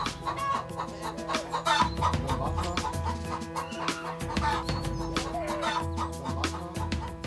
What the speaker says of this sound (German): Warren-Hühnern, um genau zu sein.